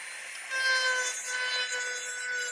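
Dremel rotary tool fitted with a sanding drum, shaping a split piece during a restoration; a steady high-pitched whine with several sharp tonal lines, rising in loudness after a brief start and running continuously with no talk.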